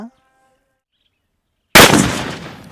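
A single Diwali country firecracker goes off after a long silent wait, one loud sudden bang with a rough, noisy tail that decays over the next second.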